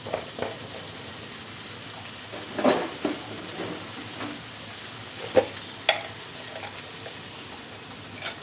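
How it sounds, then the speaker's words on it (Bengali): Spice paste is sautéed in a pan for a liver dish, with a soft, steady sizzle and occasional scraping and stirring knocks from the spoon, heard close up. "এখন মশলাটাকে ভালো করে কষে নিব"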